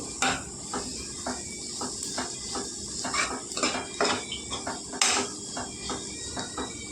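Tomato curry with chilli powder being stirred in a pan, with a steady run of light metallic scrapes and clinks from a spoon against the pan's sides, soft and evenly repeated.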